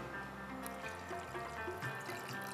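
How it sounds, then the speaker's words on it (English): Water pours into chicken korma gravy in a pan, a soft continuous trickle and splash at close range, fairly quiet, with no talk. "Now to this gravy, we have to add some water"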